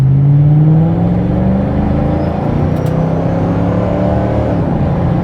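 A damaged Mustang GT drives around a corner, its engine a loud steady drone heard from inside the car. The pitch dips slightly as the car settles into an even cruise.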